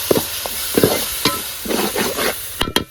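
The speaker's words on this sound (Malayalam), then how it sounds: "മൂന്ന് വലിയ തക്കാളി അരച്ചതാണ് അതും കൂടി ഇതിൽ ചേർത്തിട്ട് പച്ചമണം മാറുന്നത് വരെ നമുക്ക് വഴറ്റി കൊടുക്കാം" Paste ground from three large tomatoes, with chili, is sautéed in a pan. A spoon scrapes and stirs in irregular close strokes over a soft sizzle, ending with two sharp knocks.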